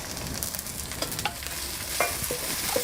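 Chopped onion added to a pan and stirred as it fries, a steady close sizzle with scraping spatula strokes and a few sharper clinks, no talking.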